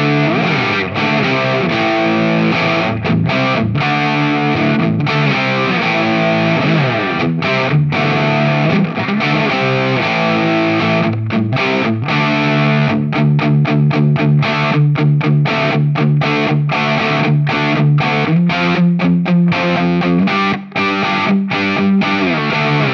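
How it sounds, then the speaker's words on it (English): Electric guitar played through a Mosky Black Rat, a budget RAT clone distortion pedal with drive set around midway, giving a continuous thick, saturated riff with steady chugging rhythm, loud and close, no voices. "let's just bring that distortion up to about midway"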